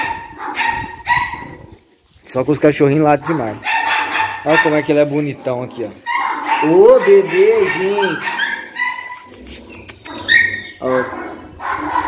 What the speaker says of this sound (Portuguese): os cachorrinhos latem demais